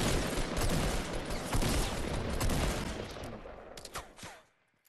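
Sniper gunfire in the Fortnite video game, a dense run of sharp shots and bursts crackling steadily for about four seconds, loud and close, then breaking off into silence.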